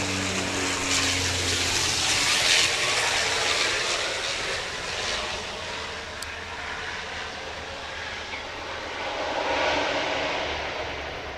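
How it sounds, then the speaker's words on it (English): A Saab passenger aircraft at Grand Cayman's airport produces a steady, loud broadband engine roar that swells and eases over several seconds, with no voices. "So there you have a Saab passenger aircraft."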